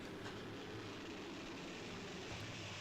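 Freight Z train with a warbonnet-painted lead locomotive approaching trackside, a steady broad rumble and wheel roar building without pause, fairly loud and constant, no talk over it.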